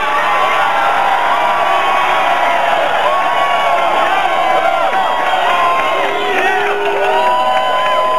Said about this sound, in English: you were cheering then, we're cheering now